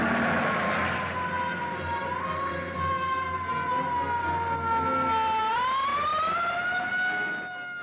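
A police car siren in a 1949 movie serial wails loudly and steadily, its tone sliding slowly and then rising near the end, with no voices over it.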